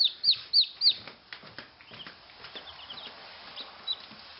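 Newly hatched Jersey Giant chicks cluck nearby in a few quick bursts at first, then settle into softer scattered clucks and rustling.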